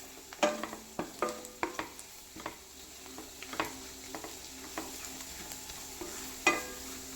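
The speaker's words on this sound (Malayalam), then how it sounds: "നമുക്ക് നമ്മുടെ വേവിച്ച് വെച്ചിരിക്കുന്നതായ ബീഫ് ഇതിലേക്കെടുത്ത് ഒന്ന് വറ്റിച്ചെടുക്കാം" Cooked beef stir-fried in a pan to dry it for beef roast: repeated scraping and clattering strokes of a spoon against the pan, roughly one or two per second, over a soft steady sizzle.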